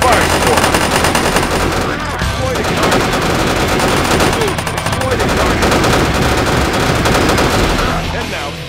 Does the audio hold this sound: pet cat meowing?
no